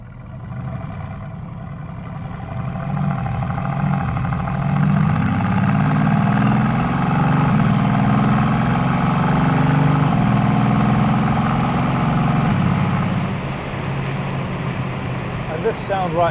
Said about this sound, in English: A proper 4-litre V8 engine that produces 510 bhp, 649 newton meters of torque